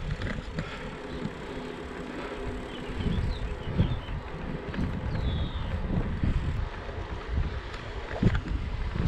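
Steady wind buffeting a microphone while cycling, with a low rumbling roar and gusty swells throughout, no voices.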